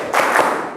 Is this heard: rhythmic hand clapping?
yes